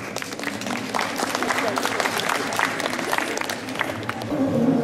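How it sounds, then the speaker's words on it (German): A crowd at a book fair claps in sustained applause, a dense busy patter of hands that stays fairly loud throughout, with voices mixed in underneath. "Applaus bitte."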